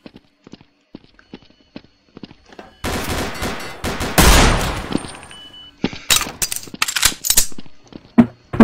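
Gunfire from an SCP video game: scattered single shots, then loud rapid bursts and a heavy volley, with more sharp shots spaced out afterward.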